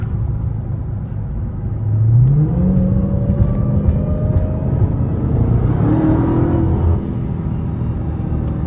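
Dodge Hellcat Widebody Jailbreak engine revving loudly from inside the car, a deep rumble rising with a rising supercharger whine that climbs and falls over several seconds.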